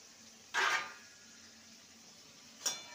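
Spices (Kashmiri chilli powder, turmeric, salt) being stirred in a cooking pan for a taro-root curry: two separate scraping, clattering strokes of a utensil against the pan, close and quiet, with the second shorter.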